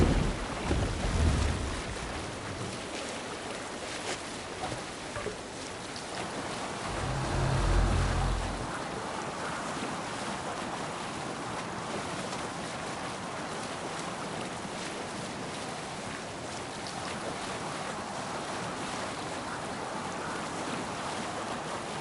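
Viking longship under sail at sea in Assassin's Creed Valhalla: a continuous rushing wash of waves and wind with a few heavier low surges of water, steady and full throughout with no voices.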